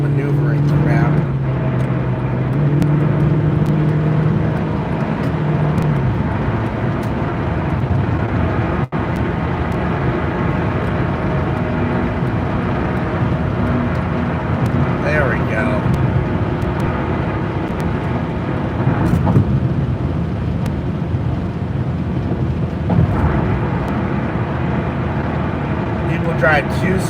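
A car cruises on a highway, a steady engine and road rumble running throughout beneath near-constant talking inside the cabin.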